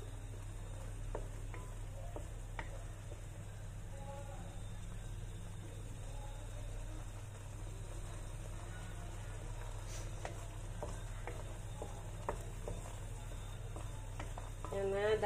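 Squid in black ink cooks in a pan, a low steady sizzle with occasional soft stirring scrapes, continuous and moderately close, with no talk over it.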